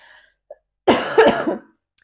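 A single harsh, close cough burst from someone with a lingering illness, loud and raspy, with a slight throat-clearing rattle, preceded by a faint breath and otherwise silent surroundings.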